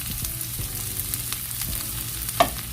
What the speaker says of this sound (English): In a large skillet, I have my oil heated up. I'm gonna add onions along with peppers.